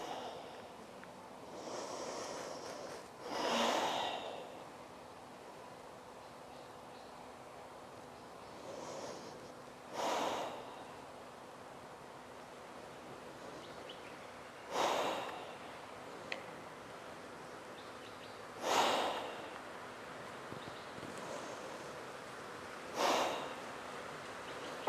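During a kundalini yoga exercise done lying face down with chin on the ground and legs lifted, strong breaths come in five or six loud, rough bursts spaced several seconds apart over a soft steady hiss, close and without speech.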